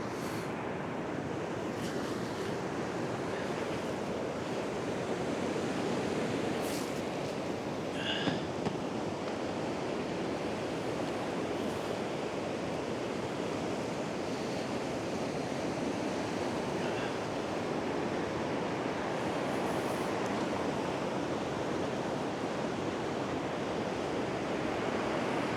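Steady sea surf washes onto the beach at Redcar in a continuous broad roar, with faint wind noise and no voices.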